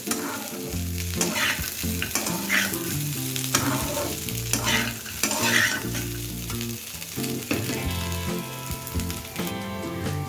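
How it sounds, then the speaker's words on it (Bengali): Potato pieces and cashews fry together on a low flame while being stirred, giving a close, steady sizzle with repeated rhythmic scraping and clattering of a spatula against the pan. "এবার সব কিছু একসাথে খুব ভালোভাবে মিশিয়ে নিয়ে আরও তিন থেকে চার মিনিট এটাকে লো ফ্লেমে ভেজে নেব"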